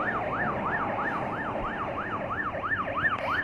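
An ambulance siren wails in a repeating rising-and-falling pattern, loud and steady above the rumble of idling vehicles in a congested Malaysian traffic jam.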